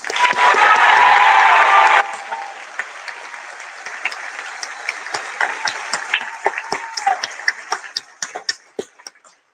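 Graduation audience applauding, a dense burst of cheering and clapping that drops sharply after two seconds into scattered, thinning claps.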